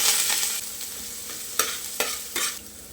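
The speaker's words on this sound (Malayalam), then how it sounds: "എണ്ണ ചൂടായി വന്നിട്ടുണ്ട് ഇതിലേക്ക് ഒരു സവാള മുറിച്ചത് രണ്ട് പച്ചമുളക് നടുവേ കയറിയത് കറിവേപ്പില ഇവ ചേർത്ത് കൊടുക്കാം" Sliced onion, green chilies and curry leaves sizzle in hot coconut oil, a steady close hiss with a few sharp crackles and spoon scrapes as they are stirred; no voices.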